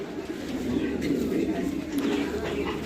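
Domestic pigeons coo in a low, steady vibrating rumble close by, the hen expected to lay within days; someone talks over the sound throughout.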